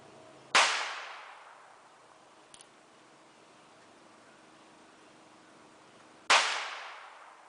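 Two sharp, loud revolver pistol shots fired at an e-cig battery outdoors, several seconds apart, each a sudden crack with a short decaying tail, and a faint small click between them.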